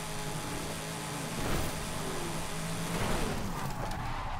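A Dodge Dart Hemi tuned past 1000 horsepower racing in Forza Horizon 5, its engine roaring loud and continuous at high speed, with rising and falling revs and tire noise throughout.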